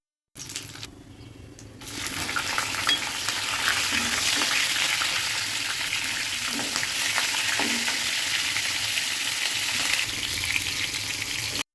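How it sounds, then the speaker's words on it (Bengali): Cumin seeds, bay leaf, dried red chili and green cardamom hit hot sunflower oil, bursting into a loud, steady sizzle that holds continuously, with a few soft stirring knocks underneath. "ওই তেলে জিরা তেজপাতা তারপর শুকনা মরিচ আর ছোটো এলাচ সাদা এলাচ যেটা আর কি তেলে দিয়ে দিব"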